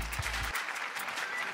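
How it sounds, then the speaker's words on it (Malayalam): Studio audience at a televised family competition show breaks into steady applause for a contestant, a dense wash of clapping that follows a brief low musical tone. "നല്ലൊരു കൈയടി"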